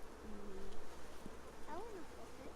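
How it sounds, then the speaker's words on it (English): A drone honey bee held by a wing buzzes in brief, wavering bursts over a steady outdoor hum, faint and close, with people talking nearby. "That's a drone bee."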